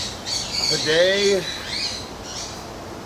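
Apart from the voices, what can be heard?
Eurasian eagle owls calling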